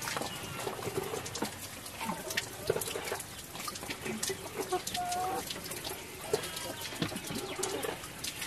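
Chickens cluck and murmur on a family farm raised alongside pigs, a busy close flock with scattered calls and a splash of water in the background.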